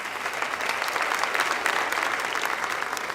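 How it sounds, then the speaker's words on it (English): Crowd at the 2017 WILLCO Awards Show, a WCS Sports Conference event, applauds athletes after a red carpet walk, a dense, sustained clapping that swells slightly in the middle. "Please give all these athletes a round of applause"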